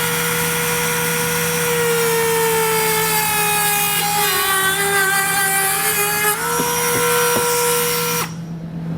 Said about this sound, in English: To cut this out, I'm just going to use a Dremel tool.